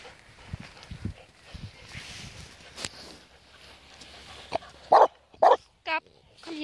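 A dog barks three or four times in quick succession near the end, loud and close, after a stretch of quiet shuffling and someone speaking German.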